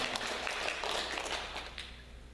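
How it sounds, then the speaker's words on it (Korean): A church congregation applauds at a 40th anniversary thanksgiving service. The clapping is a soft, scattered patter heard from a distance and continuing briefly. "우리 하나님께 감사의 박수"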